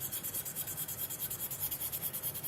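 Sandpaper rubbing back and forth across a ceramic teacup's rough white surface, a steady rhythmic rasp of quick close strokes repeating without pause.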